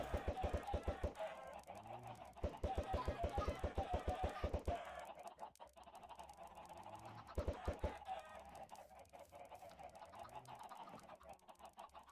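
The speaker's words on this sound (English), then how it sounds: "Oh, more chickens." Minecraft chickens cluck in quick, loud bursts of rapid clicking notes, with pauses of softer ambient game sound between the clusters.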